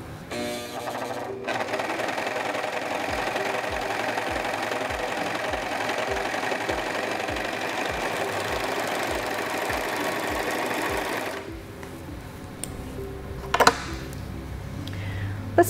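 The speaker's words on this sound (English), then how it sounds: "and we can resume sewing." Singer 14CG754 four-thread serger overlock machine running at speed, a fast steady mechanical chatter with a rhythmic pulsing thump that runs for about ten seconds, then stops, leaving quiet handling noises and a brief clack.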